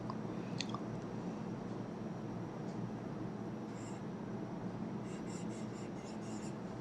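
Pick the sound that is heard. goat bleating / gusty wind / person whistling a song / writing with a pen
writing with a pen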